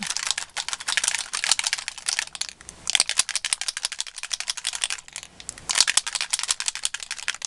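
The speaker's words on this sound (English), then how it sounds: "they have a ball on the bottom, so let's just shake these up" Spray stain bottles in silver, gold and copper are shaken hard so the mixing balls inside rattle, giving rapid, bright clicking bursts in uneven runs with short pauses, close and steady, with no talking.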